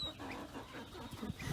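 A Buff Orpington chicken on a farm clucking softly in a few short, low bursts, faint and close, without speech.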